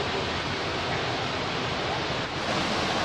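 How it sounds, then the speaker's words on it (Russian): Steady, dense roar of rushing water from a waterfall in Dalat, Vietnam, constant and loud throughout with no pauses. "Вот такой супер водопад."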